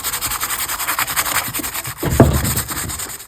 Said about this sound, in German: Aber ich schleife jetzt dann noch einmal drüber.